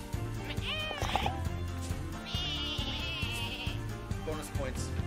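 Sheep bleating in the video game Lumberhill, several wavering bleats over upbeat game music and sound effects, with a voice talking briefly.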